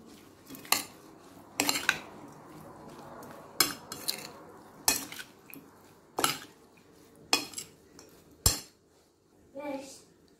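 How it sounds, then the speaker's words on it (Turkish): Spoon clinks sharply against a bowl in a steady rhythm of about eight strikes while beetroot salad is tossed with salt, oil, black pepper and lemon juice, close and clear with quiet stirring between strikes. "sıvı yağ, karabiber, limon suyu ekleyip karıştırıyoruz."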